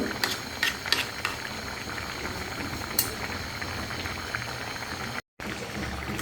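A pot of pabda fish curry with ridge gourd and potato simmers and bubbles steadily, a soft continuous hiss and bubbling with a few sharper clinks near the start.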